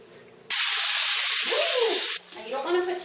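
Food dropped into hot bacon fat in a pan for potato soup, a sudden loud hissing sizzle that cuts off after about two seconds, followed by quieter frying under a voice.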